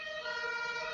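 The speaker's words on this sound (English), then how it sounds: "If you can hear all of the sirens in the background" Emergency siren on a Berlin street, a steady high wailing tone with layered harmonics sounding for the full second, moderately faint as if from some distance.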